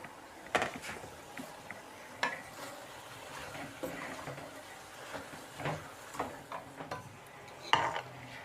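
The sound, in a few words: adding cabbage to pan of cooking vegetables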